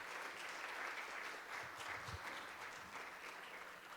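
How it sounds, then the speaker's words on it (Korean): Steady congregation applause during a church service, a continuous wash of many hands clapping that stays fairly faint and even, tapering slightly toward the end. "함께 감사의 박수를 올려드립니다"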